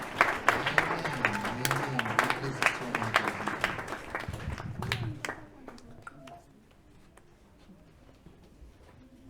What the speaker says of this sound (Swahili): tupige makofi tusherekee